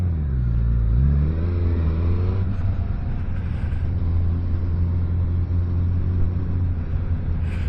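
Suzuki GSX-S1000 motorcycle accelerating in A mode, a loud, steady close engine roar with a rising rev sweep early on, then a sustained deep drone throughout.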